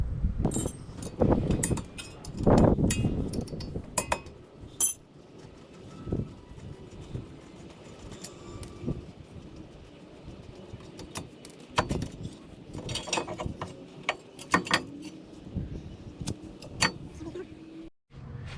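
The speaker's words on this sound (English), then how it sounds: "Now we're going to be removing these two bolts. We're going to be removing the caliper." Brake caliper bolts come off the front brakes of a 2016 Mazda 6, heard as close metallic clinks, rattles and tool clatter in uneven bursts, with some quieter stretches between them.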